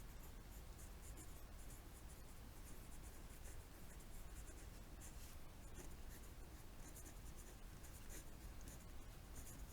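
A pen writing an equation by hand during an exponential functions maths lesson, producing faint, continuous scratchy strokes with no voice heard.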